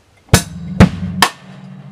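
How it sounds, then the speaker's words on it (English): Grade 1 drum kit groove from an exercise, with three loud kit hits about half a second apart over a sustained low ring, played alone. "So the whole groove sounds like this"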